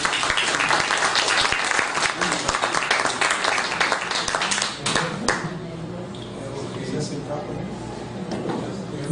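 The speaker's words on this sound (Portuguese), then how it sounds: "com gratidão, uma salva de palmas" An audience at a culture academy gathering in Bahia claps loudly and densely for several seconds, then the applause tapers off into quieter room sound with faint voices.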